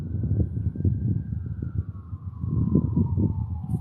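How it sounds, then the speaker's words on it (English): An ambulance siren wails near a city park, a single drawn-out tone that slowly drops in pitch as it passes, steady and fairly loud over low rumbling background noise. "Oh, that's an ambulance going over."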